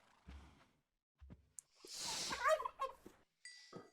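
A turkey in the Minecraft video game gobbles once, a short warbling burst that stands out near and clear. Brief soft thumps and rustles come before it and after it, and no one speaks.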